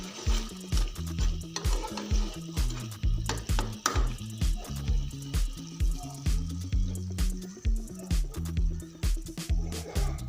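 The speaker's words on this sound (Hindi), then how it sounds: "और चम्मच मसलसल हिलाते रहेंगे। इसे हम तकरीबन 10 मिनट पकाएंगे।" A spoon scrapes rhythmically around a pan of milk halwa as it cooks, repeated close strokes with soft sizzling and bubbling underneath and occasional metallic clinks.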